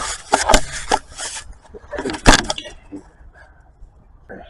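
A hand rattles the catalytic converter of a camper that will not accelerate past 30, producing loud metallic clanks and jangling in two short bursts, close up, followed by fainter knocks.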